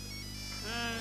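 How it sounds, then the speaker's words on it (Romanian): A telephone ringtone sounds with steady electronic tonal bursts, moderately loud, briefly overlapping indistinct voices in a Rwandan drama scene. "telefone"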